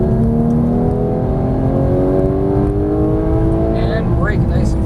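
A Porsche 991 GT3 engine pulls hard on a racetrack, its loud rising tone climbing steadily and close throughout, with a brief higher whine near the end.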